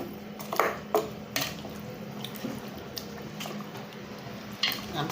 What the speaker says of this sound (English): I'm stirring my meat.